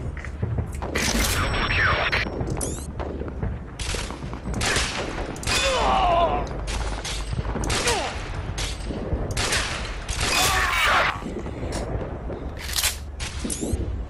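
Sniper rifle fire in the video game Sniper Team 2, a dense run of loud gunshot bursts and mechanical clicks repeating across the clip, mixed with game noise and occasional voice.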